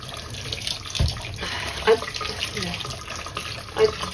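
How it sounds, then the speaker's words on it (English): Boiling water with a splash of cold is poured out for fabric dyeing in a continuous rushing stream, with a thud and a couple of small clinks along the way. "just pour hot water over"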